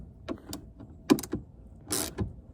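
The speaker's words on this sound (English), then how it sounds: "tighten it down a little bit more before it starts ratcheting" A socket ratchet tightening 7 mm bolts while a Roush rear side splitter is refitted on a car, heard as a few sharp, close clicks and metallic ratcheting bursts separated by short pauses.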